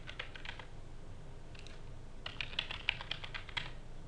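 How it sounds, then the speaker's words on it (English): Someone types a password on a computer keyboard while installing Ubuntu 10.04, producing soft, quiet key clicks in short irregular bursts with a brief pause, then a faster run of taps. "type in your password"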